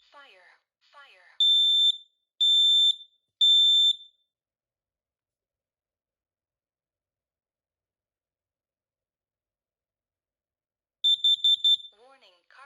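A Kidde Nighthawk KN-COSMXTR-B smoke and carbon monoxide alarm runs its test: a recorded voice, then three loud, shrill beeps, a long silence, then a rapid burst of beeps and a final voice message.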